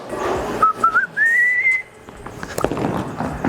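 A person whistles a short rising, wavering tune at a bowling alley, clear and fairly close, followed by scattered knocks and rumbling alley noise.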